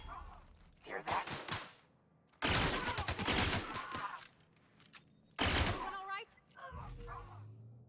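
Pistol shots from The Outer Worlds video game ring out in three loud clusters of sharp reports, separated by brief quieter gaps, with game sound effects trailing between them.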